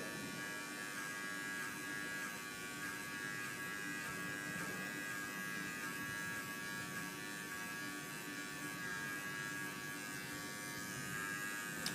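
An electric hair clipper cutting a fade and tapering the side of a haircut gives a continuous close, even buzz that holds steady throughout.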